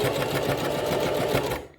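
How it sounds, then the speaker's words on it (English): Sewing machine stitching a flat felled seam, a fast steady mechanical whirring and ticking of the needle running close and loud, then stopping abruptly near the end. "as the machine is feeding the fabric through the bottom of,"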